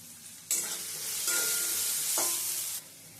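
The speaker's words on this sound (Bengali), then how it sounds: "ডুমো ডুমো করে কেটে নেওয়া আলুটা ভেজে নেওয়া হয়ে গেছে" Diced potatoes with salt and turmeric hit hot mustard oil and crackle loudly, with a strong sizzle that surges twice as they are stirred before it cuts off.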